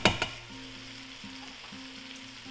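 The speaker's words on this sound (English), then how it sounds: "So I got the celery and onions in there, and I am gonna cook it down a little bit, sweat these veggies and stuff out." Chopped onions and celery sweating in a pot for a spiny lobster chowder, giving a steady close sizzle with a brief louder burst at the start and a faint low hum beneath.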